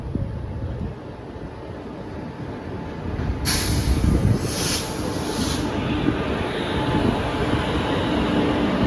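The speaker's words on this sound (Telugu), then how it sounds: "అటు పక్క ఫస్ట్ ప్లాట్ఫారంలో అయితే ఒక ట్రైన్ అయితే వస్తుంది" A coal-carrying freight train rolls into the platform at Dwarapudi station. A steady, heavy rail rumble fills the scene, with a brief high hiss partway through and no talk over it.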